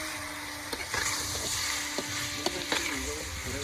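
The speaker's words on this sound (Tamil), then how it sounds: "கலக்குப்பா, கலக்கு கலக்கு." Pork gravy is stirred in a hot pan, with a steady bubbling sizzle broken by sharp scraping strokes of the spoon against the metal.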